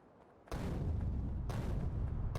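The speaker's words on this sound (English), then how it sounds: "I feel bad using grenades on these singular trees" Two grenades exploding among trees in Factorio, each a sudden heavy blast with a long low rumbling decay, the second coming about a second after the first.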